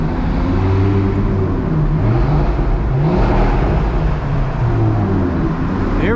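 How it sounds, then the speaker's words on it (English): Audi RS3 engine revving in traffic, a steady loud droning whir with rising and falling engine tones, heard from inside the car. "Get some revs for you guys too"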